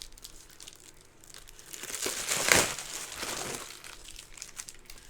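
Scissors cut through the perforated plastic wrap of a compact disc, making a crinkling, tearing rustle that builds to a louder crunch midway and then fades. It is close and heard alone, with no talking.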